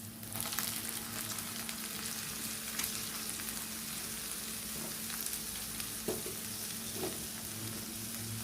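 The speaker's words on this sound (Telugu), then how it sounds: "స్టెయిన్ చేసినటువంటి క్యారెట్ బీన్స్ వేసుకుందామండి." Carrots and beans fry in ginger garlic paste, giving a continuous crackling sizzle under a low steady hum, with a few soft clinks of stirring near the end. No voices.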